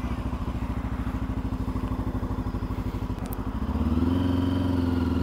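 A 2023 Voge 525 ACX motorcycle engine cranks with a rapid, even chugging of the starter, then catches near the end and settles into a steady, close idle.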